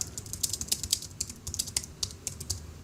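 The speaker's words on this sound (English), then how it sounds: "Type in some text." Rapid, light keystrokes on a computer keyboard click in an uneven, continuous rhythm. The sound is close and fairly quiet, with no talking.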